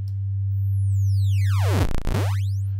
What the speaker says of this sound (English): it kind of changed the type of distortion, digital distortion that we get